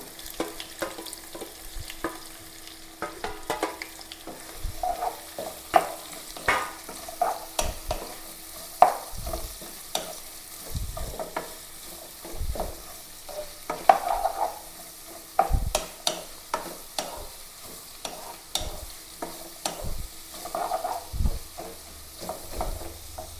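Onion, garlic, green chili and ginger frying in a pan, a soft continuous sizzle broken by repeated spatula scrapes and taps at an uneven rhythm, close and moderately quiet, with no talk.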